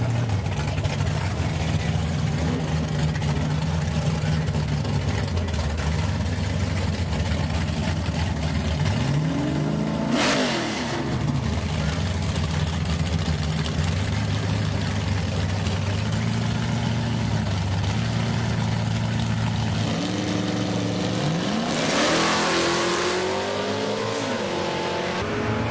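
At a big-block Ford drag racing event, a Mustang and a 1964 Ford Fairlane rev and launch hard, the engine pitch climbing in loud bursts over a constant crowd-and-engine rumble, with a second surge of acceleration near the end.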